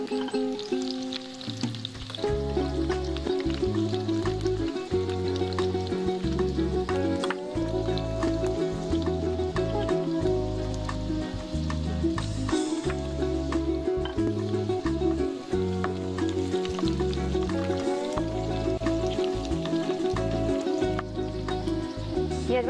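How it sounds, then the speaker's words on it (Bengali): Slit green chilies and whole garam masala sizzle in hot oil in a Bengali kitchen, a steady frying hiss running throughout under loud, rhythmic background music. "এবার আমি ওই চেরা কাঁচা লঙ্কা আর গোটা গরম মশলাটা দিয়ে দিই।"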